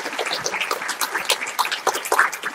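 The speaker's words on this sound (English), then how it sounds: "happy when people applaud before I do anything or say anything" Audience applause welcoming a speaker at a lecture hall talk, dense crackling claps from a crowd, steady and fairly close, lasting the whole short stretch.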